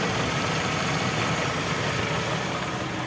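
Steady, close idle of a Toyota Starlet engine, a dense continuous rumble with even low vibration and no voices.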